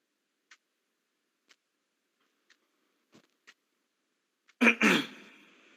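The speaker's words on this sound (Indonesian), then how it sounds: "ya ada yang batuk sepertinya." Someone gives a sharp, loud double cough near the end, after a few faint isolated ticks in otherwise quiet surroundings.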